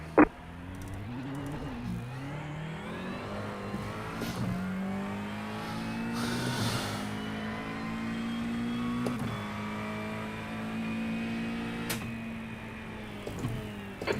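A GT3 race car engine in a racing video game drones steadily at Spa with rising and falling revs, a sustained motor whine that swells slightly in the middle, with brief clicks at the start and end.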